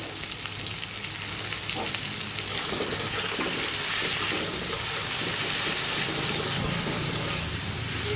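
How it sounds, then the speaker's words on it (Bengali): Black cumin seeds, salt and turmeric fry in oil in a kadai, giving a steady, close sizzle and hiss that swells slightly midway, with no one talking. "একটু ভাজা ভাজা করে নিচ্ছি"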